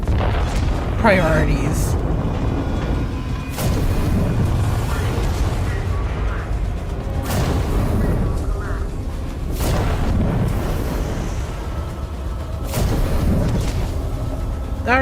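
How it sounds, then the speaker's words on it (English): Booming explosions from a ship blowing up in a video game, heavy low rumbles with several sharp blasts repeating across the clip, dense and loud throughout, with a voice speaking briefly over the noise. "Right now I'm escaping a whole entire ship that's exploding."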